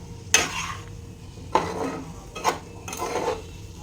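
Vegetables being stirred in a pan with no oil, giving four distinct scraping clatters of a utensil against the pan, each a brief broadband swish, fairly close and moderate in level over a low background hum, with no talking.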